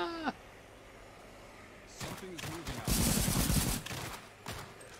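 Rapid bursts of gunfire from the zombie strategy game Cepheus Protocol in horde mode, loud volleys crowding the second half, with a voice speaking early on and a few scattered sharp shots between.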